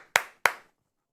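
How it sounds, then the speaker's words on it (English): Two sharp, close hand claps a fraction of a second apart, then silence, as someone marks a milestone celebration. "Everybody give it a round of applause."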